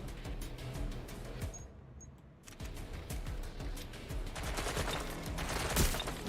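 Rapid gunfire in a video game, dense volleys of shots crackling throughout with a brief quiet gap, loud and close, with little or no talk.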